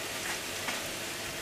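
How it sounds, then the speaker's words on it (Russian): Meat fries in a large pan together with its sauce, a continuous close sizzle and bubbling hiss with faint stirring scrapes. "Обжарить мясо"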